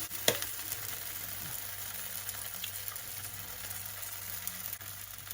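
An egg dosa fries on a hot pan with a steady, close sizzle that holds evenly throughout, with a brief louder crackle near the start.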